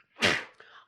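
A single short sneeze, a sharp explosive burst followed by a softer trailing breath, close and moderately loud, with no talking during it.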